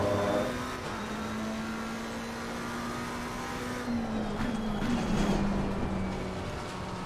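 A broken McLaren race car in Assetto Corsa Competizione at Watkins Glen, its engine holding a steady droning note that wavers and drops slightly partway through, loud and up close.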